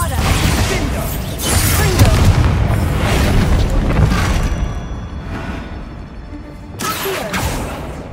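A Bombarda blasting spell goes off in the video game Hogwarts Legacy, with repeated heavy booming blasts and crumbling debris rolling through, loud and close, as a voice shouts over part of it.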